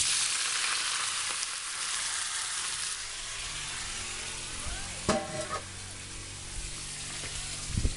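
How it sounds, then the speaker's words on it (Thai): Pork frying in a pan with garlic already fried for a Thai sweet-and-sour stir-fry, a soft steady sizzle throughout with a few clanks and scrapes of utensils near the middle and end. "เจียวกระเทียมไว้นะครับ ใส่หมูลงไป"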